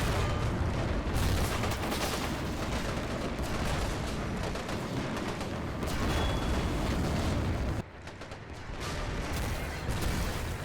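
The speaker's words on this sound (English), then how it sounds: "That's a drum mag Thompson. It's a 50-round drum mag Thompson" Thompson submachine gun with a 50-round drum magazine in a World War II siege battle game, sustained automatic fire blending into a dense, continuous roar of battle with a brief lull near the end.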